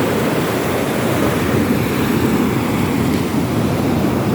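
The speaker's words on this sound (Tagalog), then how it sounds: "Laki ng alon." Large waves crash and churn along the Palawan coast during a typhoon, a loud continuous roar of surf mixed with heavy wind buffeting the microphone.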